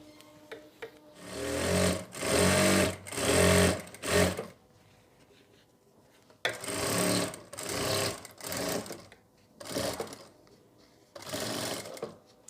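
An electric sewing machine stitches a saree belt where elastic meets buckram, running in several short whirring bursts separated by brief pauses, close and loud.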